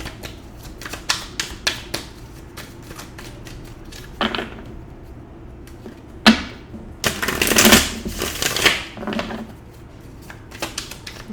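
A tarot card deck is shuffled up close, giving bursts of crisp riffling and snapping card clicks with short pauses between them and no talking.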